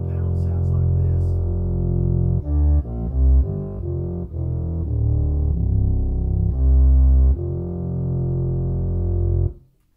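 Rodgers A677 organ with full pedal registration, combining 16, 8 and 4 foot bass stops, playing deep sustained low notes that shift through a short phrase and end in a long held chord, loud and full.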